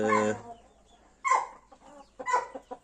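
Chickens cluck close by, three short throaty bursts separated by brief pauses, with no other sound in between.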